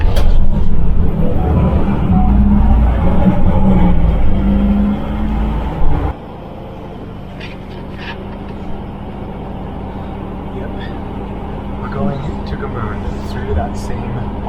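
A bus heard from inside while riding across a border crossing from Czechia, with a steady low engine rumble and road noise that loudens and then settles into a quieter drone, with a person talking over it.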